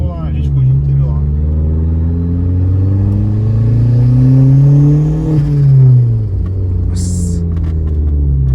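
A turbocharged 1.0-litre VW Gol G6 engine revs loudly up close. A deep, steady rumble climbs in pitch, peaks and then drops back, with a faint higher whine near the end.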